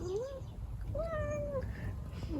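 A small cat meows close by, two clear rising-and-falling cries with a brief gap between them, over a quiet room hum.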